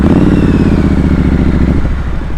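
A motorcycle climbs a hill slowly with the clutch pulled in while downshifting, a close, loud, chugging engine rumble with a faint click near the end.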